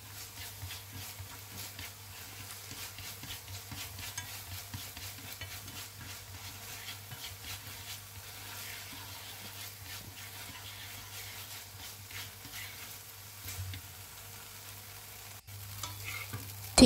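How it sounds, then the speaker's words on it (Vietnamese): Vegetarian noodle ingredients with soy sauce and vegetarian chili sate are stir-fried in a pan, producing a steady, close sizzle with soft stirring scrapes that continue throughout, and no one is talking. "Mình xào đều cho gia vị tan đều."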